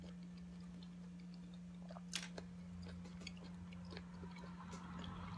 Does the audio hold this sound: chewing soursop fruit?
yes